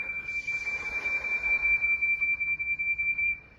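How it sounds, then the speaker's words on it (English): Percy the little tank engine blows his new super loud whistle at the quarry, a single long, steady, piercing whistle tone held for several seconds, close and loud. "Now that he had a super loud whistle, Percy couldn't wait to use it again."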